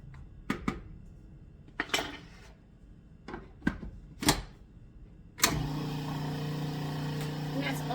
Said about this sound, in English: You blend it again.